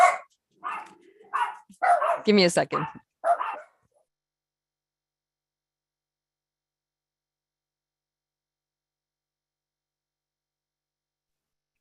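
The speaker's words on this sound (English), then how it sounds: "I apologize if you can hear my dogs right now." Household dogs bark in a rapid, loud burst over about four seconds, set off by people coming downstairs at home, with a brief voice amid the barking before it falls silent.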